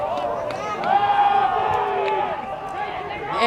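At an Arcadia high school baseball game, the crowd chants a riff, a sustained rising and falling chorus of many voices heard from a distance, with chatter and cheering mixed in.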